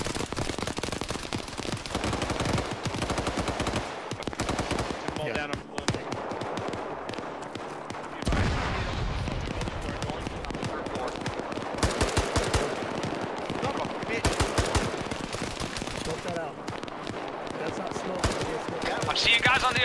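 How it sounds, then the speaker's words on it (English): Bursts of automatic machine-gun fire in a military shooter game, with rapid rattling volleys and single shots coming in waves across the whole stretch, loud and close, mixed with talk and game ambience. "I don't think they can hear the growlies over the gunfire"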